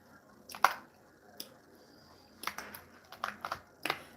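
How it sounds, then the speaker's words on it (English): Someone chewing and biting into crab claws, giving wet squishy crunches and cracks in irregular bursts with quiet pauses between, close to the listener. "Sitting up here enjoying my crabs."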